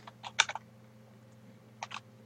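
Typing a router configuration command on a computer keyboard, a few quiet quick key clicks in two short bursts separated by a pause, in a quiet room.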